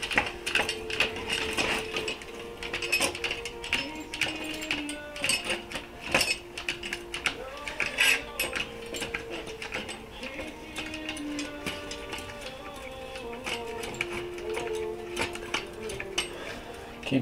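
A 330 Conibear body-grip trap is squeezed down by hand, giving a steady run of faint metallic clicks, ticks and small clanks close up with no voices.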